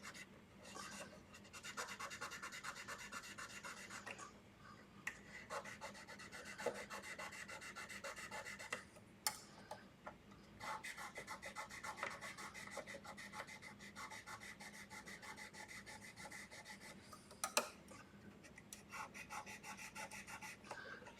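Dirty frets on a Washburn EA10N acoustic-electric guitar are rubbed and polished in a steady, faint raspy scrubbing that runs continuously with brief pauses and back-and-forth strokes, close up and without talk.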